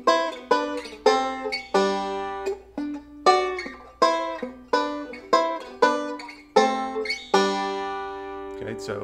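Plucked notes on a fretted string instrument play a D lick with a roll through passing chords. The picking is quick and rhythmic with bright, decaying attacks, close and clear, with no voice over it.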